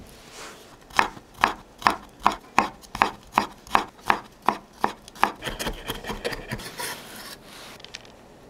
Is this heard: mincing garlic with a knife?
yes